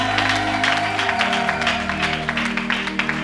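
A church congregation applauding Jesus in thanksgiving, a steady, dense wash of clapping that holds at a loud, even level throughout, with a low musical hum underneath.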